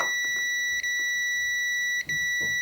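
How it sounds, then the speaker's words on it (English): A multimeter on continuity mode gives short high beeps while probing the thermal cutout of an electric shower, two brief chirps rising over a constant electronic whine. "the thermal cutout should be continuous and beep."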